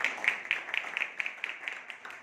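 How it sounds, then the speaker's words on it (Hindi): Steady, even hand clapping from an audience runs throughout at a moderate distance, forming a dense, continuous patter with no voices. "अब मेरे लिए से जोरदार ताली कर दो यार।"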